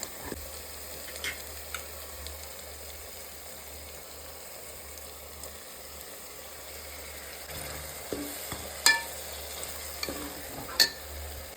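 Tomatoes softening in a pan for mushroom biryani, a faint low sizzle with occasional scrape and clink of a spoon stirring, a few sharper knocks toward the end, no talking.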